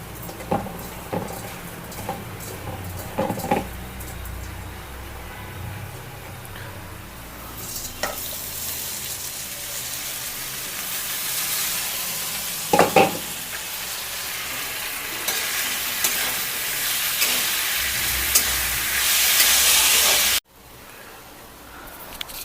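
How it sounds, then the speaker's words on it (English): Rice and lentils frying with onions in a pan for a pumpkin hotchpotch, a continuous close sizzle and hiss with occasional stirring clatters, rising louder toward the end before cutting to quieter sizzling. "Now I have to give this rice and lentils in the pan."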